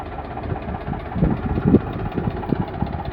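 A 2014 Eicher 485 45 HP tractor's diesel engine idles close by, a steady low rumble with irregular knocking pulses throughout.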